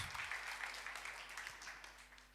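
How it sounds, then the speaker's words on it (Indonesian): Congregation applauding at a church worship service, a fairly faint, steady patter of many hands that slowly tapers off over a couple of seconds, heard alone with a low hum beneath. "Tepuk tangan yang terbaik buat Tuhan Yesus."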